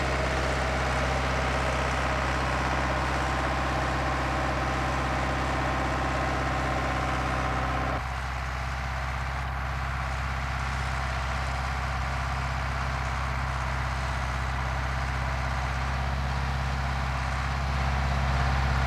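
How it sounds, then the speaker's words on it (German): A tractor drives between rows of hop plants in a hop garden. Its engine drones loudly and continuously, with a steady low rumble that shifts slightly partway through as the machine moves along the rows. "fährt der Hopfenpflanzer mit dem Traktor in die Gärten, um die Räume zwischen den Stöcken auszuputzen"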